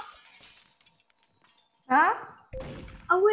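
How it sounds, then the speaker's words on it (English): After near silence, window glass in a Roblox game shatters loudly with a sharp crash, followed by a second impact and more breaking debris. "a window just broke and I heard it"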